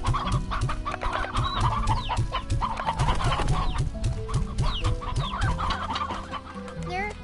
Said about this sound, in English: There, some chickens.